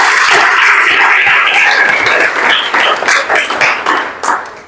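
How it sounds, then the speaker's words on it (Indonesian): A classroom group of students claps together at the close of a teaching session, loud and close at first, then thinning into a few scattered, separate claps that fade out. "Tepuk tangan dulu untuk kalian semua"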